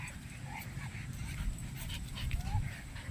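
A dog pants heavily outdoors at sunset, with quick breathy puffs repeating steadily and close by, a faint whimper now and then and light background noise.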